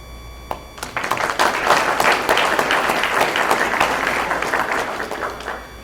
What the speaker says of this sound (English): Let's applaud the accomplishments and wish them well.